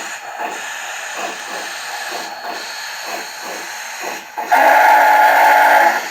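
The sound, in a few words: model steam locomotive PRR 2-8-8-2 sound-system whistle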